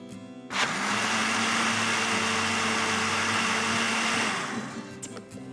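A kitchen blender whirs loud and close as it blends leftover rice with milk for phirni. The motor kicks in abruptly, holds a steady high whine for about four seconds, then winds down.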